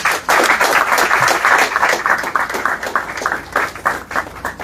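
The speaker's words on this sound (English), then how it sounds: "Give them a round of applause." Audience applause at a Carifesta XV event, sustained dense clapping from a crowd honouring visual artists and fashion designers, steady and fairly loud throughout.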